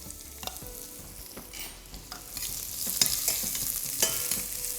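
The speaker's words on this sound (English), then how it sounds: "We just have to saute them till they're translucent." Shallots and curry leaves sautéing in a pan for a Malabar prawn curry, a soft steady sizzle with occasional stirring scrapes and taps, growing slightly louder toward the end.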